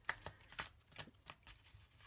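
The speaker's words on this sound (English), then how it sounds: "overall, they do shuffle pretty nice" Oracle divination cards are shuffled by hand in a series of quick riffling, flicking bursts, close and distinct, with short pauses between them and no talking.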